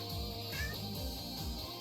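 A pet cat named Ellie gives one drawn-out meow, close and moderately loud, over a steady background of video game music.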